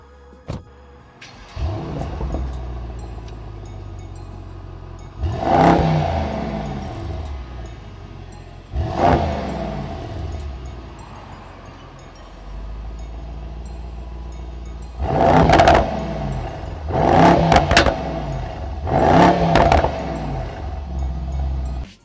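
A 639-horsepower Mercedes-AMG GT 63 S in race mode with its exhaust valve open revs five times, loud and close: each sharp, roaring blip rises and falls, and the last three follow in quick succession.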